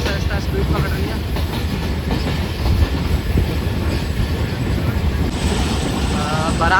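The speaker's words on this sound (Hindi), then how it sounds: "ट्रेन हल्की हुई थी और वैसा ऐसा स्पीड पकड़ रही है।" Passenger train 151UP Shah Latif gathers speed on the tracks, with a steady loud rumble of rolling wheels and rattling carriages close by and continuous throughout.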